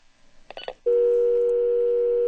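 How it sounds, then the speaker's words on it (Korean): A telephone call disconnects: a few quick beeps give way to a loud, continuous steady hang-up tone that carries on to the end. "전화가 끊겼다."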